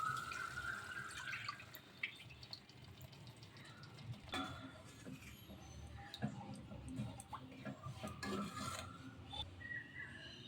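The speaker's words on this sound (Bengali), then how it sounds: "বাটিটা ধুয়ে একটু জল দিলাম।" Water from a rinsed bowl trickles and drips into a cooking pan while Bengali potol malaikari simmers, a faint wet rasp and scattered splashes across the whole stretch.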